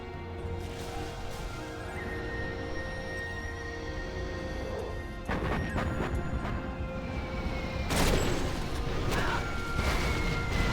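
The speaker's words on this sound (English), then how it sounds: "Carpet Bomb comes in from SiZe, kills this bunker" Carpet bombing hits a bunker in a strategy game, bringing heavy crashing and smashing impacts over continuous game noise that grows louder toward the end with a sharp burst of debris near the close, and no talk.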